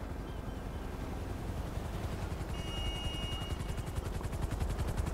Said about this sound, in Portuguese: Olha lá como é que o helicóptero chega, ó.